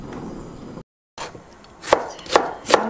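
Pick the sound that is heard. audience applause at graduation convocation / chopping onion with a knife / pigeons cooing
chopping onion with a knife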